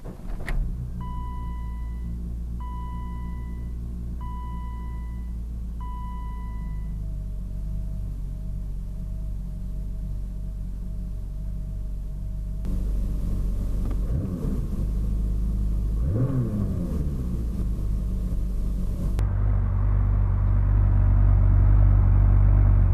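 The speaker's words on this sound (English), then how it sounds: "This is a cold start of the 93 M5." A 1993 BMW M5 engine cold-starts close by: a starter whir with tonal chirps, then the engine catches into a steady, loud rumbling idle that climbs slightly in level as it settles.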